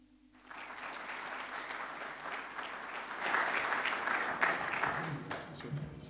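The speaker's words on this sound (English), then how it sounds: "thank you for your kind applause" An audience gives speakers steady applause, swelling louder midway, the dense clapping sustained and unbroken.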